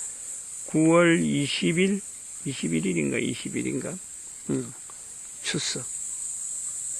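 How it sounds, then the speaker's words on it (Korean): Cicadas drone in an early morning on Geumosan mountain, a continuous high steady buzz running the whole time beneath someone speaking in the foreground. "아침 매미 울음소리."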